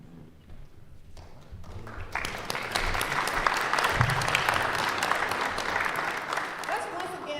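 An audience at an awards ceremony breaks into sustained applause, steady clapping that swells after a quieter start and continues throughout.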